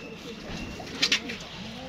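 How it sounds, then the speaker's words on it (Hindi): A pigeon coos inside a loft where a breeding pair and young birds are kept, soft low cooing close by, with a pair of brief sharp clicks midway. "उसके बाद ये अंदर है कबूतर"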